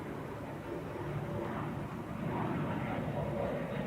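A Beechcraft 390 Premier jet at Dublin Airport produces a steady, moderately distant engine roar, broad and even with a slight swell toward the end.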